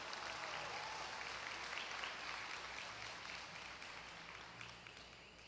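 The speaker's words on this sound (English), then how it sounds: "a very big round of applause" Sustained applause from the audience at a university convocation ceremony in Guyana, following a performance by a police steel orchestra; dense, steady clapping filling the space and slowly tapering.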